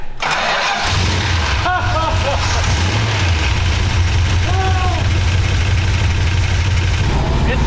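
A 1969 Dodge Charger engine idles steadily and loud throughout, a low continuous rumble that catches and settles after a brief start, with people talking over it.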